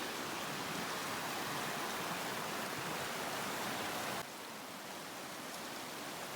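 Water rushes steadily past at a mountain stream near an old broken bridge in Castleguard Meadows, a broad continuous hiss with no pauses or voices.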